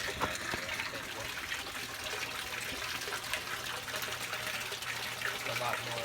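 An aquarium aerator churns water in a bluegill tank holding ghost shrimp, giving a continuous close bubbling and trickling wash at steady volume, with some speech underneath.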